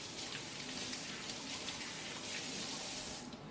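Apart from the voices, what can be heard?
rinsing garlic under running tap water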